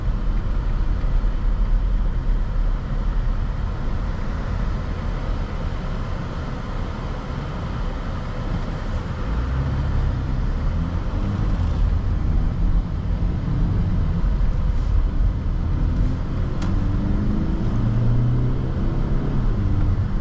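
A 2024 BMW X1 xDrive28i pulls along the road from the driver's seat, a steady low engine and road rumble with tyre noise that swells gradually as the car gathers speed.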